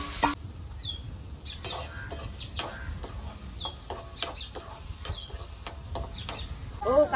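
Onion and tomato fry in a pan for shark bhurji, with steady sizzling and repeated sharp clinks of stirring against the pan; faint bird chirps sound now and then in the background.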